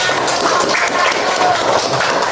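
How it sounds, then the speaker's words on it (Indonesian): Classroom applause from students during a lesson, a dense, continuous patter of many hands clapping at close range, fairly loud, with faint voices mixed in. "Alhamdulillah, tepuk tangan."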